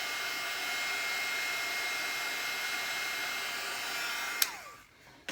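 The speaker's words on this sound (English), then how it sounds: "take your heat tool and just put a little blast of heat on it, just to kind of dry it up" A crafting heat tool blows hot air to dry stamped ink on a handmade card, a close, steady whooshing hum that runs for several seconds and then cuts off with a click as it winds down.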